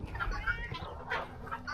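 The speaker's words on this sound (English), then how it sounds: "all the chickens overall are doing pretty good" Chickens on a small farm clucking in a loose, continuous stream close by, with overlapping calls over a low background rumble.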